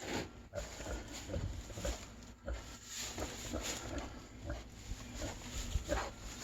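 Pigs grunt in a tarp-sheltered pen readied for snow and ice, low scattered grunts blending into a steady rough background noise.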